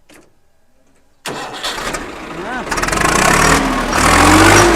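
A tractor engine cranks and catches after a second of near silence, then idles loudly and revs up, close by, with a brief spoken word over it.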